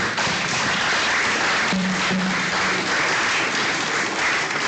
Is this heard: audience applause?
yes